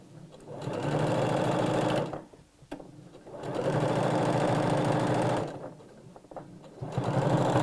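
A sewing machine runs in sustained bursts while stitching a spiral rose evening bag through bulky fabric and lining, steady and close, with brief pauses and small clicks between runs.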